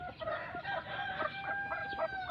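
A Phoenix rooster, a long-tailed chicken breed, gives a short, close, strained call with clucking, a brief crow-like cry that lasts only a couple of seconds.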